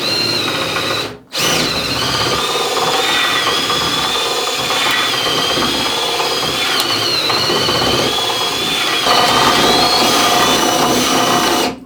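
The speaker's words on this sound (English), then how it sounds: "you want to be on full speed on the drill and hold back, because then you're clearing the rubber and the metal tube" A power drill runs at full speed, cutting through the rubber and metal tube of an Alfa Romeo 105 Series trailing arm bush. The close, continuous whirring grind drops out once briefly near the start, then carries on steadily alone.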